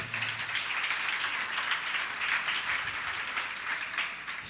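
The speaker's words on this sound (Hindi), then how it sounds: "मैं चाहूँगा अपने लिए ज़ोरदार ताली बजाएं आप।" A church congregation at a Sunday service applauds, with a dense, sustained wash of many hands clapping at an even level for several seconds, no voices on top.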